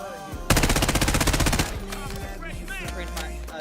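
A loud, close burst of rapid machine gun fire in a video game lasts about a second, followed by scattered game effects and tonal sounds with no clear voices.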